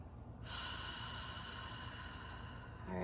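A single deep inhale draws in steadily through the nose for a few seconds, close and breathy, during a guided morning prayer and stretching routine, with the start of the exhale at the end.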